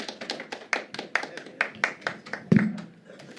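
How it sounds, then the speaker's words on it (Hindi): Scattered hand claps from an audience after a poetry recital, a dozen or so sharp irregular claps rather than full applause, with a louder thump near the end and faint voices underneath. "बहुत तालियां प्रदीप भाई के लिए"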